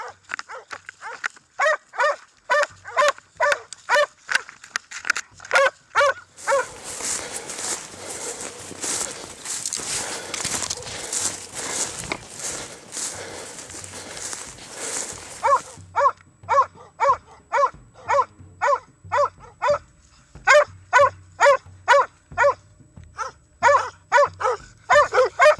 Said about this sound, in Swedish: så släpper jag mina hundar